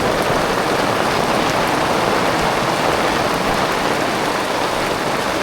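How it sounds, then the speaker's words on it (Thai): Steady rain falls hard on a rural Thai house site where post footings are being replaced, making a loud, continuous, even wash of drops nearby with no talking over it. "ตอนนี้ฝนตกเริ่มเย็นแล้ว"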